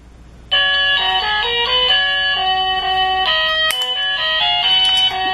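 A 1Byone portable wireless cabinet doorbell plays a polyphonic chime melody, loud and clear with bright sustained tones, the notes changing in steps over several seconds with no talking.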